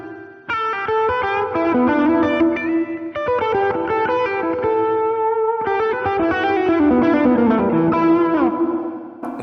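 Electric guitar played through an HX Stomp with reverb set to a shorter decay and a higher mix, strummed and picked chords ringing steadily and loudly with a bright, washed, slightly distorted tail, no voices.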